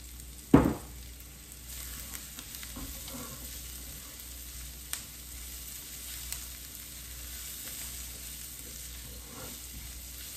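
Garlic sizzles gently in olive oil in a pan over low heat, a soft steady crackle heard up close and alone, opened by a sharp knock near the start and followed by a few faint clinks.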